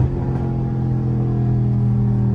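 Dodge Scat Pack V8 holding a loud, steady throaty rumble as it drives through traffic, strong low-end drone with slight rises in revs and no voices.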